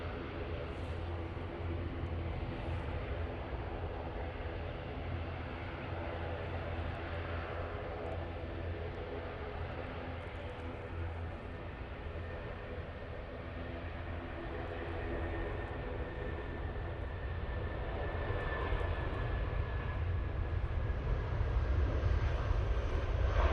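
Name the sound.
Eurowings jet engines spooling up for takeoff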